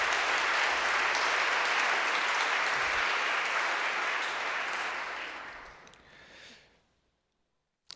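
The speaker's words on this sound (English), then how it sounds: "Please give them a round of applause." Sustained audience applause at a university lecture hall event, loud and dense for about six seconds before thinning out and fading to silence, with a single faint clap at the very end.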